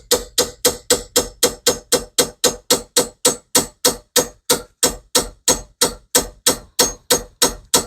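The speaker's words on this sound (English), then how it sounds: "You got that hammer still? Yeah. I might be able to tap on it." A hammer taps a metal part on a broken 1993 Subaru Sambar kei van in a fast, steady rhythm, about three ringing blows per second, close and loud, with no talking.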